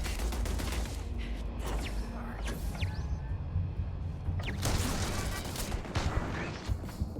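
Shotgun blasts and close-range gunfire in the sci-fi video game Starfield, loud bursts crashing over a dense wash of game sound and music, with a second heavy flurry of shots late on.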